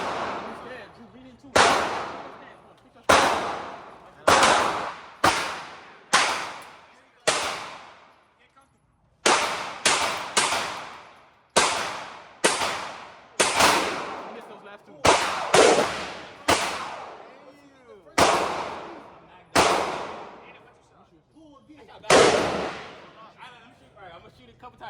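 Pistol shots ring out at an outdoor shooting range, about twenty loud sharp cracks, each with a ringing decay, fired singly and in quick pairs with short gaps between.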